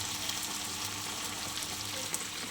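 Okra added to lightly fried potatoes in a pan for a poppy-seed dish gives a steady, close sizzle of frying, broadband and even throughout with small crackles and no talk.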